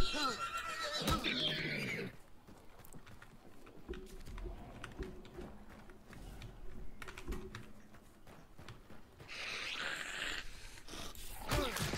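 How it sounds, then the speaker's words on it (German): A horse whinnies twice in the video game Hunt: Showdown, separated by quiet stretches of keyboard clicking and faint talking. "hier ist das Pferd."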